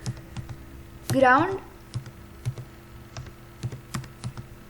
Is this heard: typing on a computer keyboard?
yes